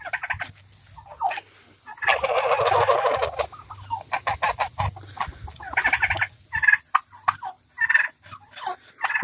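Red Bourbon turkeys on a farm, four toms and three hens, gobbling loudly and close by in repeated bursts, with short pauses and scattered clucks between calls.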